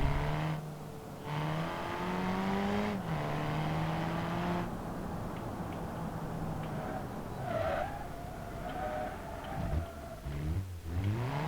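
Car engine in the driving game BeamNG.drive revving and accelerating, its pitch stepping up through gear shifts, with tire skids and squeals near the end, steady and moderately loud with no talking.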